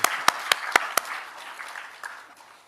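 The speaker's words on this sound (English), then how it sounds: "Another round of applause for Mr. President." Clapping for Ghana's President after his statement at an official event: five sharp, evenly spaced claps close by over a soft background patter of applause, followed by a faint trailing clap as it dies away.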